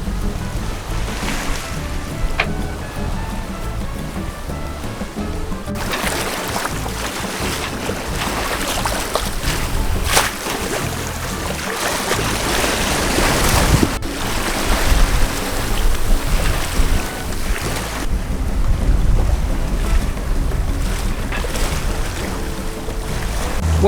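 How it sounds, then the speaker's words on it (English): Sailboat reaching under genoa alone in 18 to 20 knots of wind, with steady rushing wind and waves washing against the hull, continuous and loud with surging swells and no talk. "18 knots, 20 knots of wind. Really nice. And we're sailing with the Genoa Alone."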